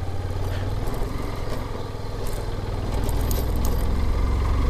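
Motorcycle riding along a road on the way home, with a continuous low engine drone close by that grows slightly louder and rougher toward the end.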